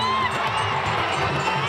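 Devotees cheer and chant praise to Veerabhadra among a vast crowd at the chariot festival in Kodachi village, Ramadurg taluk, Belagavi, a dense sustained roar of many voices with raised shouts throughout.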